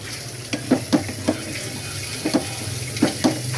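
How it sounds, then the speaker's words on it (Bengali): Pots and pans are washed under running water: a steady rush from the tap with repeated metallic clanks and knocks at an irregular pace, close by. "হাঁড়ি পাতিল ধুইতেছে"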